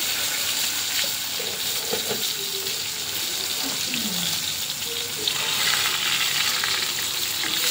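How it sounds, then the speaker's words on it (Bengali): Stuffed pointed gourds are dropped into hot oil and fry, giving a steady close bubbling sizzle with watery crackle and a few soft knocks throughout. "দেখুন এক এক করে সব পটলগুলো আমি ছেড়ে দিচ্ছি"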